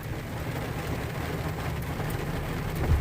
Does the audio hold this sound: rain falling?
yes